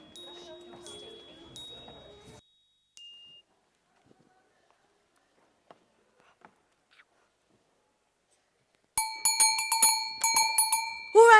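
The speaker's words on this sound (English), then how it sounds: "Who rang that bell?" A bell rings at the gate of the Emerald City in The Wizard of Oz. After a quiet stretch, it chimes loudly and rapidly in repeated bright strikes, coming after faint earlier voices and music.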